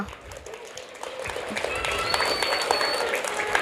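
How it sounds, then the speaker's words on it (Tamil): Applause from an audience at a school or awards gathering in India, starting softer and swelling into a full, continuous wash of claps, with faint crowd murmur beneath. "ஒரு பெரிய கைத்தட்டல் கொடுத்துடலாமா?"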